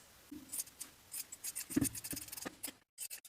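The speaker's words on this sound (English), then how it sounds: "Trim the seam allowances and the upper corners." Scissors snip fabric seam allowances and corners in quick irregular cuts, close and crisp, with short pauses between bursts of snipping.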